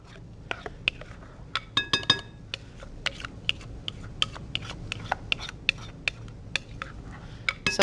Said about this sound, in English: what we're going to do is stir our wet ingredients into our dry ingredients